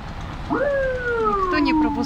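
An ambulance siren wails through heavy St Petersburg street traffic, its rising and falling tone starting half a second in and sweeping steadily across the rest, loud and fairly near over a constant roar of road noise.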